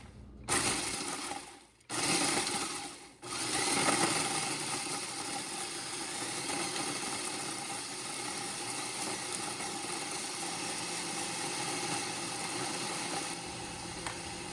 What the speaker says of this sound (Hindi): इस तरह से छोटे छोटे पीस करके आप फूड प्रोसेसर में डाल दें और फिर इनको ग्राइंड कर लें।